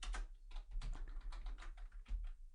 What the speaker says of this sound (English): Let's just type in hello world, I guess.